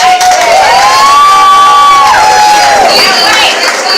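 A crowd cheers and shouts loudly for a performer at a live poetry show in Bronzeville, with sustained whoops and high voices carrying over continuous noise from start to finish.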